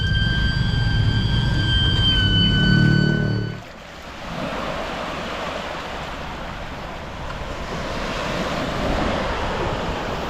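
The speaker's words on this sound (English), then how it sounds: "Now we're back on the coastline and we're back on the beach." Continuous wash of ocean surf on a Bali beach, a loud, broad roar with wind buffeting the microphone, and a tonal hum in the first few seconds before the surf carries on alone.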